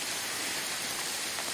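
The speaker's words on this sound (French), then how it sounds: "Orage de grêle à 4100 mètres, donc je suis bien bloqué." Hailstorm high in the Peruvian mountains at 4100 metres, a dense, steady hiss and patter of ice hitting surfaces, continuous and loud with no voices.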